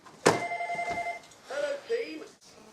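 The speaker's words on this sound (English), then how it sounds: "And I've got a stupid Bob the Builder phone." A Bob the Builder phone ringtone plays, a short bright melodic chime that sounds clearly at first before fading under a voice.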